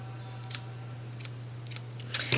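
Scissors trim paper for a handmade Stampin' Up card, giving a few quiet, crisp snips spaced apart over a steady low hum, with a slightly louder cut at the end.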